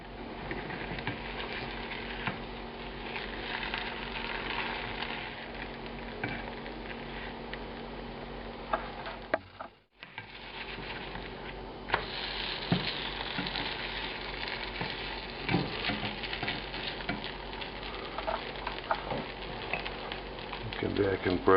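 An aloo masala gram dosa, a spicy potato-filled pancake, sizzles and fries steadily on a pan with butter, a continuous crackling hiss with small pops and a brief dip midway, no talk.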